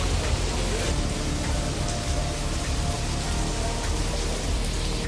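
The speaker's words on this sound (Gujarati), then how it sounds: "તો તમે જોઈ શકો છો જોરદાર વરસાદ પડી રહ્યો છે અત્યારે અમારા લાઠીની અંદર" Heavy rain pours down steadily in Lathi, Gujarat, a dense, constant hiss of falling water with no break, close and fairly loud throughout.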